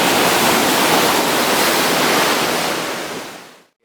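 Ocean waves breaking at Ngobaran Beach, a loud, close, broad rushing wash of surf that holds steady and then fades out abruptly near the end, with no voices.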